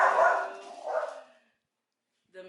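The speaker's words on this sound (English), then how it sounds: "the dogs are gonna go crazy." Dogs bark in a loud, close burst of overlapping yelps that fades into silence, then one brief bark returns at the end.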